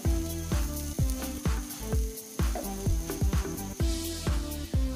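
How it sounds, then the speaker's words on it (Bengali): Rice frying in a pan for khichuri, sizzling steadily while being stirred, with a repeated rhythmic scraping pulse that is close and fairly loud, with no talking. "আমরা চালটাকে 5 থেকে 6 মিনিট ভেজে নিব।"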